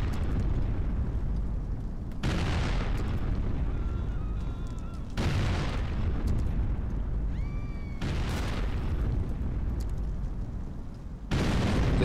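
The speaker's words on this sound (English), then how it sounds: "I'm running out of grenades here." Grenades blast in the GTA IV video game, four heavy booming explosions spaced a few seconds apart, loud and close, each with a long rumbling tail and faint whistling debris between them.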